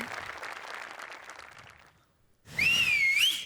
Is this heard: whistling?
yes